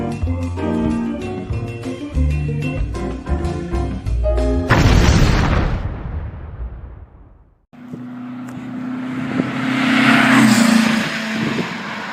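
A VW Type-3 Fastback engine with dual carburetors warms up, a steady droning idle. It enters after several seconds of music and a burst of broadband noise, then runs loud and close on its own.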